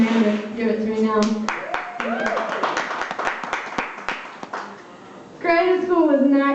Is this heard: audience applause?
yes